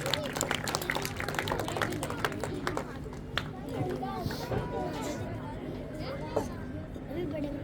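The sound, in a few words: audience applause at school Republic Day celebration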